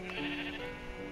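Sheep bleating in a video game, a single short wavering bleat at moderate volume, heard alone over a faint background.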